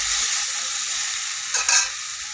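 Water is poured into a pan of sizzling rupchanda (pomfret) fish curry with eggplant and potato; steady frying hiss, then a brief louder spitting burst midway before settling back to a sizzle.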